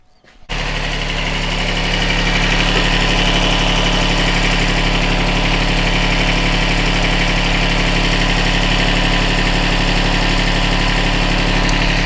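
A tiny tractor engine runs and idles after a quick service, a loud, steady close-up rumble with a constant low drone and even vibration that starts abruptly and holds unchanged throughout.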